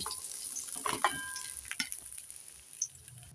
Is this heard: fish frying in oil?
yes